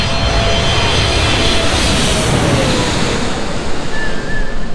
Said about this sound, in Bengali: কত বড় একটা বিমান, জাস্ট মাথার উপর দিয়ে গিয়ে নামলো